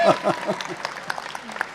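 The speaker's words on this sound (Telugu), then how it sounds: "ఒకసారి గట్టిగా చప్పట్లు వేసుకోండి" A short burst of audience clapping at a Telugu movie audio launch event, several quick claps close by, fading out quickly as a voice briefly speaks over it.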